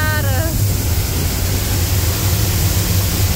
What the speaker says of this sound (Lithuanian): Galima beveik paliesti krioklį.